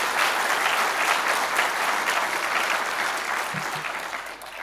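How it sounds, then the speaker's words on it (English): Steady applause from a large conference keynote audience, sustained and even throughout, with no voices over it. "give them a round of applause"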